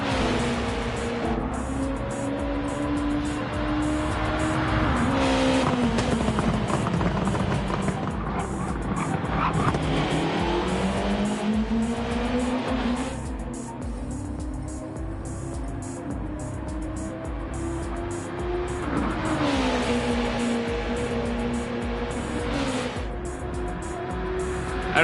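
Race cars in Gran Turismo 2 roar through gear changes, engines rising and falling in pitch with tire squeal and skids, loud and continuous with no talk.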